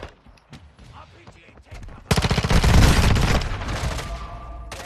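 Automatic gunfire in the video game Modern Warfare 2 bursts in loudly partway through, a dense rapid rattle of shots that tails off, with a player talking faintly before it.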